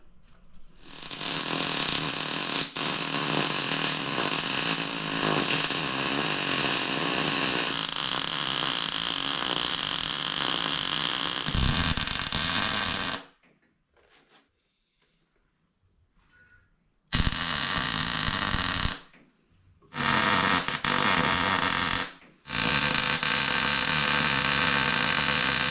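Welding flat steel stock pieces in a metal shop, long loud crackling buzz of the arc broken by short silent pauses between welds, close and unaccompanied by talk.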